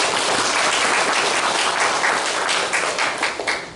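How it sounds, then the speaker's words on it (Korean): A church congregation at a Sunday worship service claps together, a loud, dense burst of applause that thins into scattered claps near the end. "마음으로 박수를 부탁드리겠습니다"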